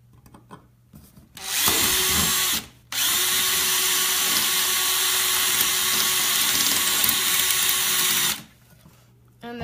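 A power drill fitted with a larger bit whines loudly and close, running in two bursts of about one and six seconds separated by a brief pause, with a steady pitch throughout.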